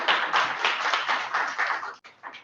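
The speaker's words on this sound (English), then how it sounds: "let's give Donahue and Jerrod a huge round of applause" A small room crowd at a collaborative ventures event gives a burst of clapping, close and lively in uneven waves, then it thins out and breaks off near the end.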